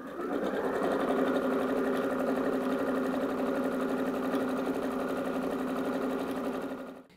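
A sewing machine stitches a satin cap with lace, running in one continuous, steady, close mechanical whir for about seven seconds before stopping.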